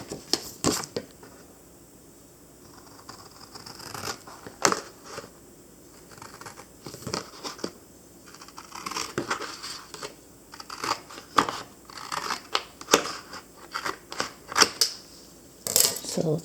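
Scissors snip through a paper strip while books are being prepared for a giant dollhouse: a series of sharp, close cutting clicks spread irregularly over a quiet background.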